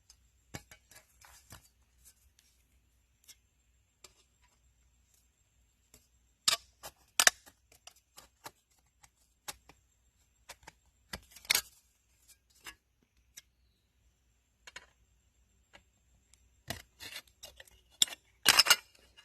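Hand snips cut a square piece during a DIY outdoor kitchen build. They make sparse, crisp snapping clicks, some single and some in quick clusters, with long quiet gaps between.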